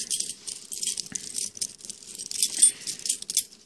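Keys jangling close up, pulled from a heavy cargo work-pants pocket: bright, irregular metallic clinks and rattles in quick bursts over a quiet background.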